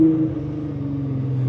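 A Nissan GT-R sits idling close by, a steady low engine hum with a smooth, even drone and no revving.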